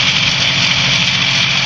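Light aircraft engine held at low throttle in flight, heard from inside the cabin: a loud, constant droning hum with a steady low throb and a bright whirring overtone, no talk over it.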